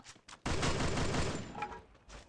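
Gunfire in a Thai-played shooter game meant to replace Free Fire, with a couple of short shots followed by a loud sustained burst of automatic fire that fades, then another short shot at the end.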